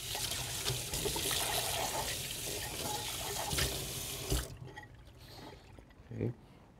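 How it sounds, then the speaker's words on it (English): A small bowl is rinsed under a running kitchen tap, with a close, steady splashing gush that cuts off after about four seconds, followed by a few faint drips and clinks. "I'm gonna rinse a little bowl over here real quick."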